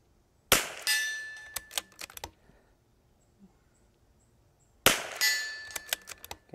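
Two sharp, loud .22 LR rifle cracks a few seconds apart, each with a metallic ring from the target and echo trailing off, quiet outdoor air between them.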